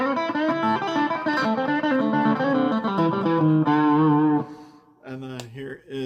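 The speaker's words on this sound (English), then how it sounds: "Here is the bridge pickup." Crunchy overdriven tone from a Squier Telecaster Deluxe's bridge pickup: strummed distorted chords ringing loud and close for about four seconds, then a short pause and a few more choppy hits.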